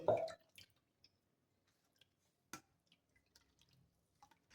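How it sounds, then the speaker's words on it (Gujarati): A wet squish, then scattered drips of amla juice falling at uneven intervals in an otherwise quiet space as blended amla pulp is pressed through a strainer. "એની અંદર આપણે જ્યુસને ગાળી લેવાનું છે"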